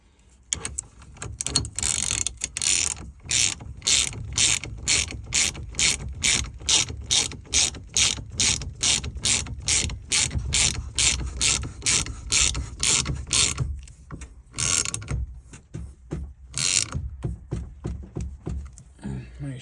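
A ratchet clicks in a fast, steady run of sharp pawl ticks while tightening the hub part of an aftermarket OEM-style steering wheel hub. The clicking stops briefly near the end, then returns in a few short bursts, close and loud.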